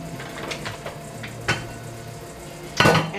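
Sausage tipped into a pot of gumbo with a metal utensil: a few clanks and clatters of pot and spoon, close and fairly loud, over a low kitchen background.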